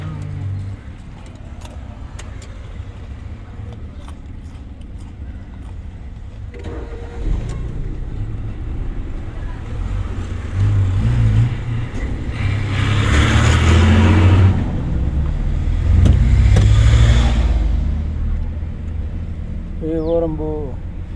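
A car started for a driving lesson turns over and settles into a low, steady engine rumble that swells and revs higher in two surges, with faint background noises throughout.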